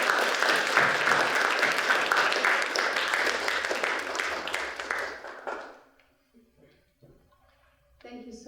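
An audience welcoming a speaker to a lecture on women in Islam, dense sustained applause from many people that fades out after about six seconds, followed by near silence and a quiet voice.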